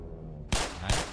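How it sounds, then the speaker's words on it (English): Two sharp gunshot blasts ring out in quick succession, loud and close, as an enemy fires during combat in the video game Black Mesa. "Shooting me from all the way here?"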